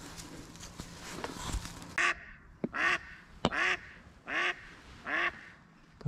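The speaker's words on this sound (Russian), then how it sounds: "Так-то она неплохо крякает" A duck quacks in a series of five loud, evenly spaced calls during a drake hunt from a blind, after some quiet rustling and knocks.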